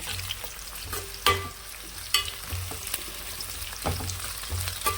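Onion pieces frying in oil for drumstick sambar, a continuous sizzle under periodic scraping strokes of a spoon and a couple of sharp knocks, no speech.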